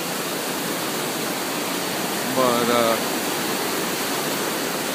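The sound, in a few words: water flowing through waste gates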